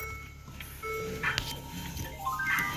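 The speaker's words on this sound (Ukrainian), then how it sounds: "Машинка хоче, щоб ми пристібнулися." A short electronic seatbelt reminder chime melody plays inside a Mercedes car with steady engine hum beneath, tones stepping through a brief repeating tune.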